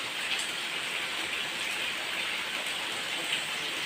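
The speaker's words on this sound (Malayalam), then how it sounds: "ഇന്ന് രാവിലെ തൊട്ടേ നല്ല അടിപൊളി മഴ പെയ്യുവാണ്" Heavy morning rain falling in a village yard strewn with fallen rambutan fruit: a steady, close hiss of raindrops on surfaces, even and unbroken from start to finish.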